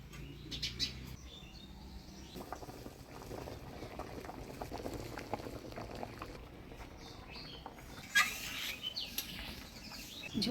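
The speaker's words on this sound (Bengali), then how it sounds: "ঝোল জাল হয়ে গেছে" Fish curry broth is boiling in a pot, a soft bubbling burble that runs low and fairly quiet throughout, with a brief louder clatter near the end.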